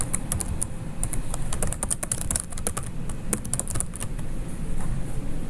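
Rapid clicking on a computer keyboard, a dense close stream of keystrokes over a low background hum, with no voices.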